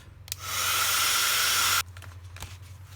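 A heat tool blows hot air over embossing powder on a craft baking mat, a loud steady hiss that starts suddenly, holds for over a second, then cuts off, leaving quiet room noise with a few soft knocks.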